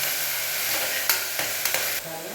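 Mutton kurma ingredients sautéing in a pan, a steady close sizzle broken by a few sharp scrapes of a stirring spoon, with no talk.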